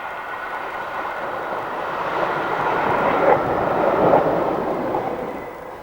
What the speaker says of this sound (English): This is the former EPB unit converted to a route learner